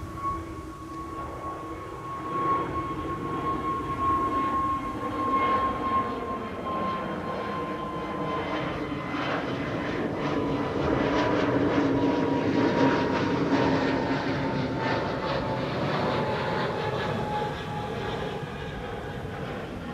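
A jet airliner's engine roar builds and swells steadily at Amsterdam Schiphol Airport, a sustained distant-to-nearer rumble with a thin whine on top, peaking midway and easing slightly toward the end.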